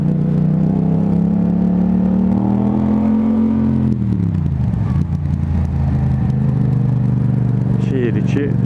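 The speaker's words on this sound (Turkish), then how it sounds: "Şehir içi devir düşürelim, ses düşürelim." An engine drones loudly and steadily from inside a moving vehicle on a drive around Sinop, its pitch rising, then dropping as the revs fall, with faint voices underneath.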